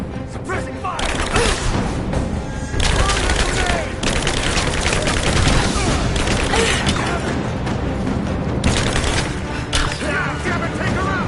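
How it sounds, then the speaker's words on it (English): Sustained suppressing gunfire in the video game Rise of the Tomb Raider, dense overlapping bursts and machine-gun volleys with booms and mechanical clatter running loud through the whole stretch, with voices shouting underneath. "Laying down covering fire."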